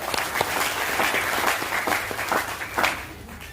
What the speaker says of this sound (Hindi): तालियां बजा दीजिए इनके लिए